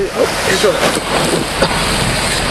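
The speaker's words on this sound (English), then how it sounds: "big wave just splashed inside my truck window here" Storm waves slap against a parked truck and splash through its window by a moving dock, a loud continuous rush of water and wind buffeting the microphone, with brief splashy surges.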